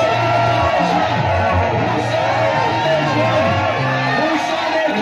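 A dense crowd at a missionary gathering in Gabon shouting and whooping with joy, a loud continuous wall of voices with chanted, sung phrases running through it.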